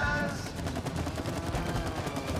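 Rapid gunfire in the co-op video game It Takes Two, a steady stream of quick repeated shots running throughout at moderate loudness, with no voices over it.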